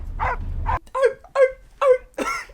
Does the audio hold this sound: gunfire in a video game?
no